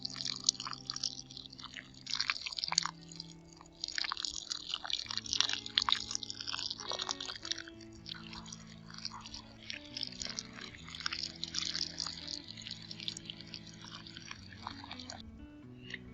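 Water poured into a potted potato plant, soaking into the soil with a continuous fizzing, crackling trickle and scattered drips, close and fairly quiet, with a low background hum throughout.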